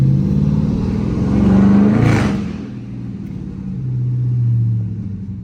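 Dodge Charger RT engine rumbling from inside the car while driving through city streets, a deep low drone that swells twice as the throttle rises and eases, with a brief whoosh of passing air.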